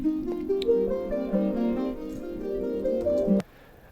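Square-wave synth arpeggio sample dropped an octave and time-stretched to play much slower, a dense, smeared line of sustained notes that runs steadily and then stops abruptly.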